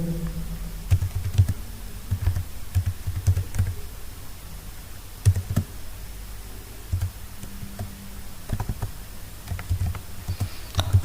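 Typing on a computer keyboard: irregular bursts of soft, close keystroke clicks with short pauses between words, quiet and with no one speaking.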